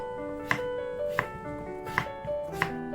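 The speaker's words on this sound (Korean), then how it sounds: "양파를 썰고 감자를 썰어줍니다." A knife chops onion and potato on a cutting board in four evenly spaced, fairly faint strokes over a steady background of soft music.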